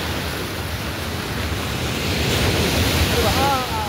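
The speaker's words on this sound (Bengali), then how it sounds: "আমরা নেমে গেছি সমুদ্রে, দেখো সমুদ্র" Sea waves and surf rolling in at Puri beach, a steady loud roaring wash blended with wind buffeting the microphone, with a faint voice briefly near the end.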